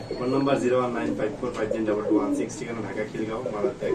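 Pigeons coo softly in the background at a pigeon seller's while someone talks continuously over them.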